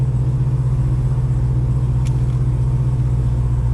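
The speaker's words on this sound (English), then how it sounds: "Letting my car warm up" A Dodge Hellcat's engine idles while warming up, a loud, steady low rumble with a deep, even throb close by and one brief faint click partway through.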